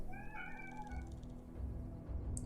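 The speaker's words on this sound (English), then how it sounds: "Cat noises." A cat meows in a strategy game, a short, clear, wavering mew lasting about a second over a low, steady game background hum.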